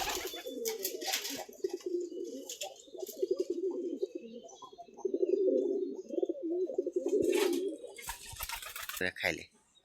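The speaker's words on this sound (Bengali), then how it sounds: "কবুতরগুলো এখন সুন্দরভাবে বকমম করতেছে।" Domestic pigeons coo close by in a steady, rolling murmur of overlapping throaty calls, with a few sharper chirps and a brief rustle near the end.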